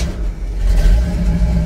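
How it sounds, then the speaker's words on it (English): A cold engine fires up and revs, a loud, close, rough mechanical roar that swells and holds for a moment with no talking over it. "I pumped it two times and took my foot off the gas and fired right up."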